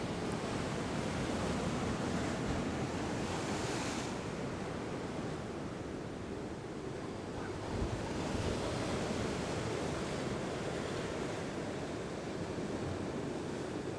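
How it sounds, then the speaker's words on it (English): Heavy sea waves at Bridlington, Yorkshire roar and crash continuously, loud and close, with gusty wind buffeting the microphone throughout. "And have a look at how big these waves are."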